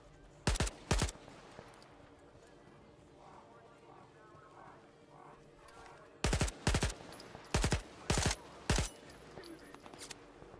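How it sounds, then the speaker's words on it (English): Gunfire in the video game STALKER 2, two sharp shots early and then a tight cluster of five loud shots later, over a low ambient game background with a player talking quietly between. "See if we can shoot them all."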